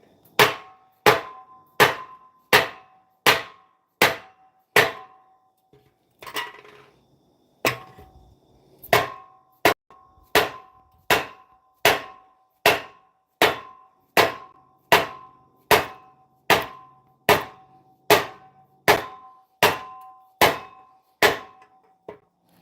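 Metal struck with a hammer in a workshop, a long run of evenly spaced, sharp ringing blows at about one per second, close and loud, with a short pause and some shuffling partway through.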